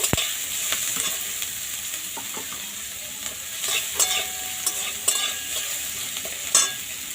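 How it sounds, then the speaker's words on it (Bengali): Onion pieces frying in a pan until lightly browned, a continuous close sizzle with scattered crackles and stirring scrapes throughout, no voices. "পেঁয়াজটা হালকা লাল ভাজা হয়ে গেছে"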